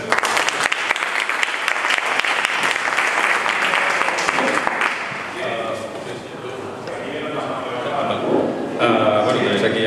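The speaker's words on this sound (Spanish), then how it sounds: "Un aplauso, por favor." Conference audience at an economics event applauding an Airbnb speaker, loud dense clapping at first that thins and softens midway, then swells again near the end, with some voices mixed in.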